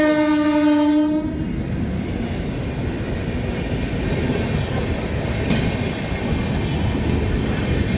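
The Telangana Express bound for Nizamuddin blasts a long horn, then rushes past with a loud, steady roar of wheels and carriages close by.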